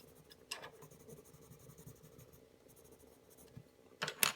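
Coloured pencil shades pink onto paper in soft, close scratching strokes, with a few louder scrapes near the end.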